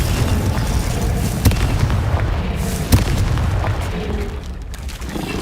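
Confringo spell blasts in the video game Hogwarts Legacy land as two sharp booming bursts over a dense rumbling backdrop of game effects, with lighter crackles between them.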